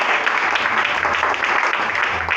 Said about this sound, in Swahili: Hiyo ni makofi ya lazima